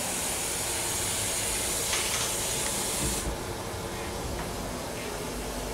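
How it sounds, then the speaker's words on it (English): Ground pork sizzles in a pot for breakfast casserole, a steady loud hiss and crackle throughout, easing slightly partway through. "while our pork is cooking"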